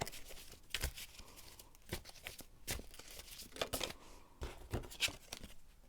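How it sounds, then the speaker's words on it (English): Tarot cards shuffled by hand, a series of soft, quick riffling and papery flicks in irregular bursts, quiet and close with no talking. "I'm gonna shuffle some more to see what other hidden talents group number 1 has."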